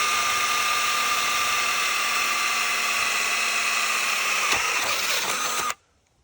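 A power drill fitted with a pilot point bit runs steadily as it bores through a section of track, a loud continuous whine with a slight change in pitch near the end before it suddenly cuts off.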